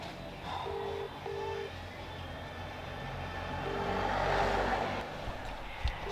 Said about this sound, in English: The phone is just ringing out, so that's not a good sign.